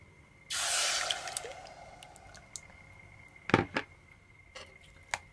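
Vegetables tipped into a hot pot set off a sudden loud sizzling burst that fades within about a second, followed by scattered clanks and scraping of stirring, with no talking.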